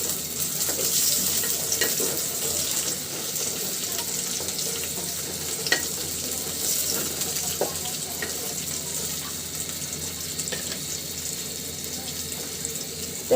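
Fried onion and sliced green chillies sizzle in a pan while cooking small fish, a steady hissing fry that runs on evenly at moderate loudness with occasional faint clicks of stirring and no voices.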